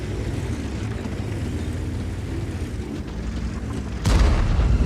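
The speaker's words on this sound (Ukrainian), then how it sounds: "Це йде перестрілка." A steady rumbling din of engines and distant booms, with a sudden loud blast near the end: tank cannon fire in a World of Tanks battle at Prokhorovka involving a VK 30.01 (D).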